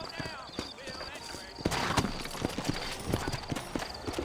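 Horse hooves clip-clop in the Red Dead Redemption video game, a rhythmic clatter of hoofbeats starting partway in, with someone speaking over the first part.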